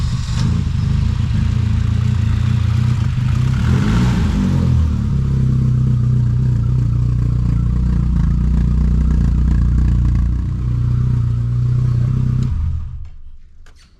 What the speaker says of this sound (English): What's under the hood? It's a straight 4. I like the way the hood lifts up. BMW M-Power. It's got a nice sound.